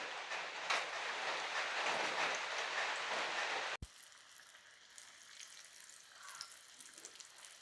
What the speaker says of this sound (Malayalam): ഇനി നമ്മുടെ കട്ട്ലേറ്റ് ഓരോന്നോരോന്നായിട്ട് നമുക്ക് ഇട്ട് പൊരിക്കാം